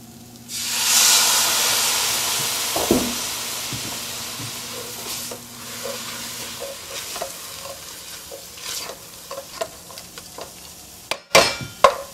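Red wine poured into a hot pan of vegetarian bolognese, setting off a loud, steady sizzle and hiss that gradually settles into quieter bubbling and occasional stirring clinks.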